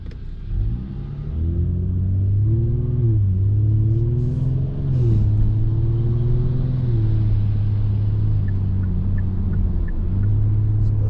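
A 2020 Genesis G70 3.3T AWD in sport mode accelerating up a highway on-ramp, its engine droning loud and close from inside the cabin, pitch climbing through each gear with brief dips at the shifts.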